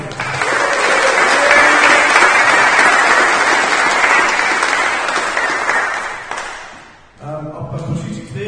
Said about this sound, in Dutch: Een heel groot applaus voor de Roland